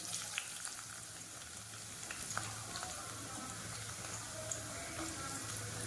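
Two medium onions cut into long slices fry in oil for a chicken roast, a soft steady sizzle with faint scattered crackles and light stirring, quiet and without speech.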